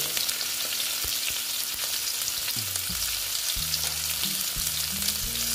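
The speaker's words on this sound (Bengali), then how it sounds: "দিয়ে এটা আমি ভালো মতন ভেজে নেব। ভেজে নিচ্ছি আস্তে আস্তে করে" Sliced bitter gourd fries in hot oil, giving a steady close crackling sizzle with occasional small pops. A low tonal hum shifts in pitch underneath, and no one speaks.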